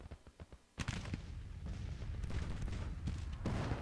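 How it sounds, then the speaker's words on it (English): Civil War brigade rifle fire in a battle game, a few scattered shots at first, then a dense, continuous crackling volley of musketry with sharp peaks, fairly distant and without talk. "2nd Brigade, I think, is firing at these enemy artillerymen"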